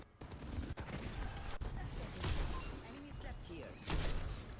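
Gunfire in the hero shooter Overwatch, with rapid bursts of shots, sharp cracks and thuds that swell in a couple of louder volleys, under a steady game mix.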